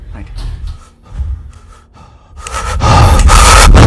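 Heavy, ragged breathing and gasps from a character hiding in the Roblox horror game Forgotten Memories, close and loud, growing into a harsh rushing blast toward the end, with a voice speaking over it.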